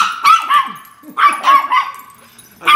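A dog barks several times up close, loud sharp barks in two or three bursts with brief yips and whimpers between, no talking.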